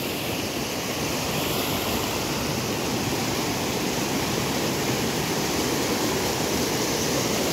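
The Khadu river rushes in a loud, dense, unbroken roar of water, constant and close, with nothing else heard over it.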